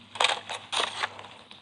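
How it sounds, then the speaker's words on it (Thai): Two short crunchy, rattling effects from Roblox Rainbow Friends, signaling a player being caught, sound in quick succession, close and fairly quiet, with no voices. "นี่คือเสียงที่เวลาคนโดนจับนะ"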